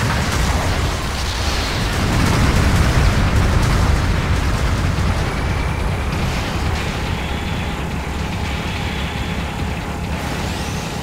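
Sustained rumbling explosions from supporting fire in a mobile suit video game, a loud continuous roar of blasts and debris with no talking.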